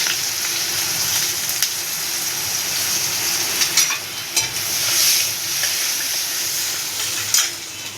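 Chopped onion sizzling in hot oil with asafoetida and cumin, a steady close hiss broken by a few louder crackles and light stirring scrapes, no voices.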